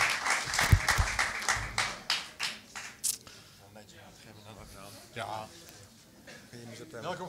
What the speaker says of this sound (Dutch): Ja, applaus mag, hè.